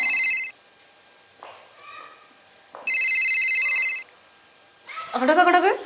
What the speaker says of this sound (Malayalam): ഫോൺ അടിക്കണാരാ അത് ഫോണാണ്